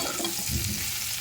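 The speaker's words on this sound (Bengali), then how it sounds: "এবারে সজনা ডাঁটা আর আলু একসাথে খুব সুন্দরভাবে আমি 3-4 মিনিট ধরে হালকা আঁচে কষে নিচ্ছি।" Drumstick (moringa) pieces and potatoes sautéing over low heat with half a tomato in the pan, a steady soft sizzle with a brief stirring scrape near the middle, no talk.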